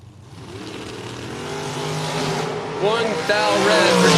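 Dragsters rev at a drag racing event, engine roar building steadily and swelling louder toward a launch while an announcer talks over the noise.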